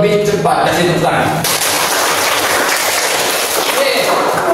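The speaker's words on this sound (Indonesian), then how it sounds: "Kasih tepuk tangan." Students applaud with steady, dense clapping in a physical education class on sprint running, close and fairly loud, the claps filling most of the few seconds after a brief spoken cue.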